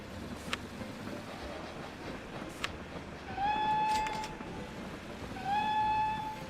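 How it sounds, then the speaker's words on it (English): Train running in the OpenLoco game, a low rumbling rail hum underneath with two short horn-like tonal whistles, moderately faint. "Wait for the train to stop."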